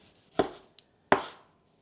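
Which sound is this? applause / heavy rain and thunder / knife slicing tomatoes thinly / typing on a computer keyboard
knife slicing tomatoes thinly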